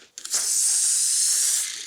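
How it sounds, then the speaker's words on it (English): Air rushes out of a balloon that drives a toy car forward. A steady, loud hiss starts abruptly and holds for about a second and a half before it begins to fade, heard close with no voices. "the air rushes out in one direction"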